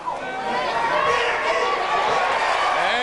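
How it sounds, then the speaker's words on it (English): The crowd at a 1996 high school football game between LHS and Hillsboro erupts after a quarterback sack, a broad sustained roar of cheering and shouting with voices standing out over it. "a quarterback sack, and the crowd goes wild"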